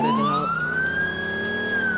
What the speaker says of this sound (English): Damn, the sirens are so loud.